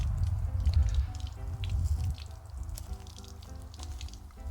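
Roadside spring water pours from a pipe into a water box in the Ozarks, a close, continuous splashing and dripping flow with a bubbly low rumble.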